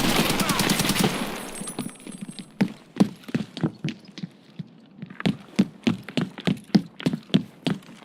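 Bursts of 7.62 AK rifle fire in a video game ring out as a rapid string of sharp, loud shots, with a dense volley early on, a brief pause, then a steady rhythmic run of single cracks that continues to the end.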